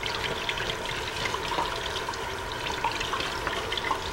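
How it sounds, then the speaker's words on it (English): Cold water running from a tap over raw chicken being rinsed in a home kitchen, a steady splashing trickle that continues evenly and fairly close throughout, with no voices. "I'm going to rinse the chicken off in cold water."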